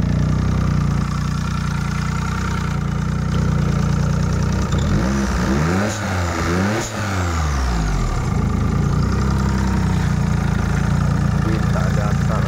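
A Perodua Kancil car engine idles steadily and close, a low, continuous rumble that briefly dips and rises midway while someone speaks.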